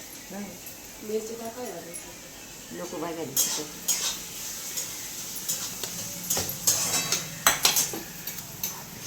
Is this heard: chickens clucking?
no